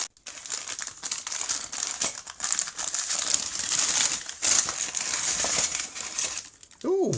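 Close crinkling and rustling of packaging as medieval Viking scissors are unpacked, rising and falling in bursts, with a brief clink near the end.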